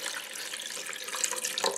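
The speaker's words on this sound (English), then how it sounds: "now I'm gonna add 2 cups of water" Water pours steadily into the pot of a Ninja Speedi cooker for beef stew, a continuous close splashing stream with no talk over it.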